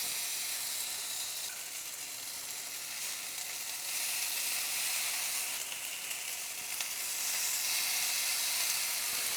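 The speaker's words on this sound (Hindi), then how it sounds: "Pan is nice and hot. Our mustard oil is smoking and it's ready for our tikka." Paneer tikka sizzles in smoking mustard oil in a hot pan, a steady, bright hissing fry close up with faint stirring scrapes, rising slightly in intensity partway through, with no voices.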